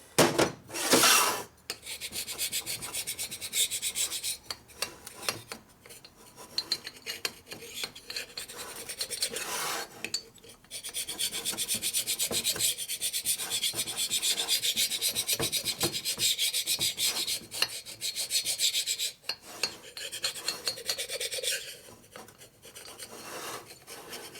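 A carbide burr grinds and rasps against the metal of a 1990s Harley-Davidson Sportster 1200 cylinder head during porting, in harsh scratchy bursts broken by short pauses, fairly close and with no talking.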